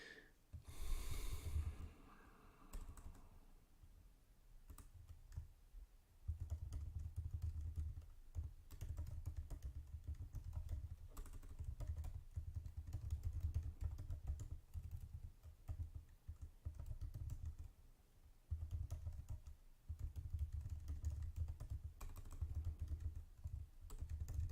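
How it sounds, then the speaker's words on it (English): Someone typing a tweet on a computer keyboard, with a steady stream of close key clicks and taps lasting over twenty seconds, with audible breathing and snorting underneath and brief pauses between runs of keystrokes. "I'm typing out a tweet"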